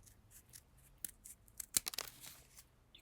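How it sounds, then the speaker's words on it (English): Scissors snip through paper in a string of quick, crisp cuts, close and fairly quiet, with short pauses between snips. "you cut the corners a little bit like this"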